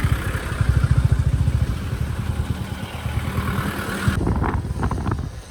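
Motorcycle riding past a traffic jam on the way to Srisailam, a close, throbbing engine with heavy wind buffeting on the microphone, then a sudden shift to a lighter hiss and clatter near the end.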